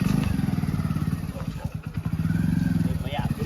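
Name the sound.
motorcycle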